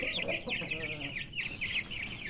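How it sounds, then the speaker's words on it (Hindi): Golden cochin bantam chickens clucking in a repeated, chattering run of short calls, close and fairly loud, continuous with no talk. "वो मुर्गी ऊपर चढ़ गई है।"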